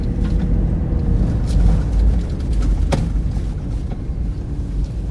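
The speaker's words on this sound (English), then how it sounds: "Sorry about the wind." Low, buffeting rumble of wind hitting a microphone outdoors on Paradise Divide Trail in Colorado, continuous and fairly loud throughout, with no talking.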